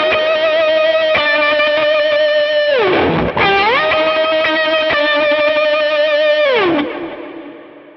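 Electric guitar lead riff played through distortion and modulation effects, with sustained harmonic-rich notes, two pitch bends sliding down and back up, and a final note fading out, loud and continuous with no talking.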